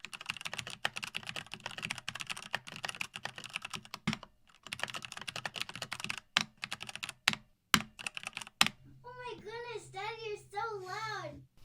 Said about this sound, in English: It fills the room with the sound of typing